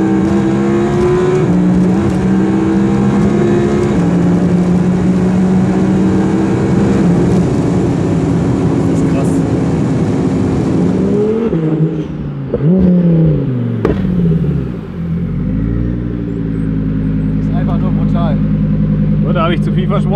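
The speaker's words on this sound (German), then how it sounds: "Ich wusste, er wird hier vom Rastplatz runterfahren und direkt von 30 bis 250 wieder durchziehen." A tuned Audi R8 BiTurbo with over 1000 hp accelerating hard from a rest stop, a loud, rising engine roar inside the car with shifts midway, settling into a deep, steady drone toward the end.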